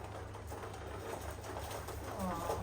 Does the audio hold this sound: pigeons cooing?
yes